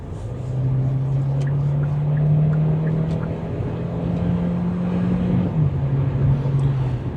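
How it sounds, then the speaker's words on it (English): Engine hum of a 2024 Kia Sportage Hybrid's four-cylinder accelerating onto an interstate in winter, a steady drone that rises smoothly in pitch and then settles, heard from inside the cabin under constant wind and road noise. "We'll accelerate onto the interstate, and we're going to be able to hear the engine again, but with all this wind noise"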